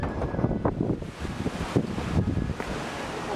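Wind gusting with light drizzle outside a mosque, a rough, blustery rush buffeting the microphone with a few louder gusts, steady throughout and no talking.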